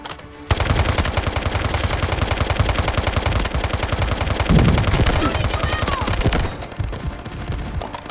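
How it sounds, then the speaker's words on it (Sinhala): Rapid, sustained machine gun fire in a shooter video game, loud and continuous for several seconds with dense rhythmic bursts, then easing off near the end. "උණ්ඩ 100ක් විතර යවනවා."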